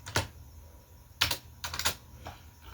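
A computer keyboard is tapped in a few sharp, close keystrokes, one single click followed by a short cluster of three or four, with quiet gaps between them.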